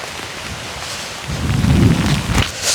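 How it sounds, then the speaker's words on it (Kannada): Heavy rain falls in Bandipur forest with a low thunder rumble swelling midway, a loud, dense wash of rain and no voices. "ಇನ್ನೂ ಜೋರಾಗಿ ಮಳೆ ಮಳೆ ಅನ್ಸುತ್ತೆ"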